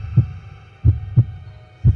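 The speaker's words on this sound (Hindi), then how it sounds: "समीर का दिल जोर जोर से धड़कने लगा।" Heartbeat sound effect in a horror story: four deep, muffled thumps, a single beat then two closer pairs, over a low hum with no talking.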